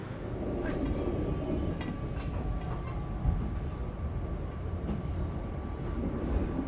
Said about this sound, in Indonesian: Kereta api Ranggajati saat ini melaju dari arah Yogyakarta